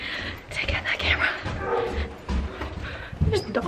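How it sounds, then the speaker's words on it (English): A dog barks and yips in short repeated bursts outdoors on a college campus, mixed with voices talking nearby. "Dog."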